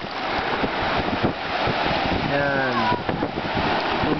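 Surf washes onto a sandy, muddy beach in a steady rushing wash, heavy wind buffeting the microphone, while a child and an adult talk nearby over the waves.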